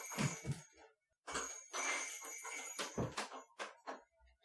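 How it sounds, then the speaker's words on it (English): Small bells hung on a study door jingle in bright, close bursts as the door moves, with a short silent gap and a few softer rattles afterward. "I have bells on this door."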